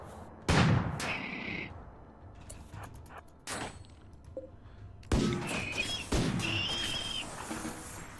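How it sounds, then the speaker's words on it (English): A slug turret fires in the RimWorld video game, heavy booming shots spaced irregularly across the stretch, with several loud impacts standing out over a rumbling background. "Let's get out of the way of the slug turret."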